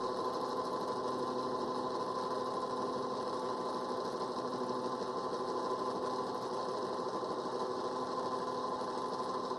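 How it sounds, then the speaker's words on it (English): Key cutting machine steadily cutting a key blank, a continuous high mechanical whir with grinding buzz, close and constant throughout without talk. "It'll make two cuts. It'll go down one way and then it'll cut coming back the other way."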